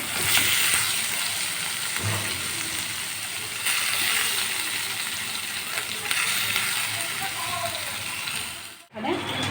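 Soaked, squeezed panta rice fries in a pan with a constant dense hiss of sizzling, close and even throughout, ending with a brief clatter as it is handled.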